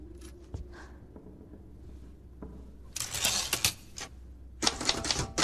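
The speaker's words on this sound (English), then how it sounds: "Can I have my typewriter at least?" Typewriter keys clatter in quick irregular bursts, loud and close, with quieter scattered strikes early on and dense rapid typing in the second half, no voices present.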